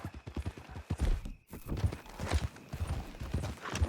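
Horse hooves clip-clopping in the video game Red Dead Redemption 2 around the Beecher's Hope ranch, a steady rhythmic walking gait, close and clear, with a brief pause partway through.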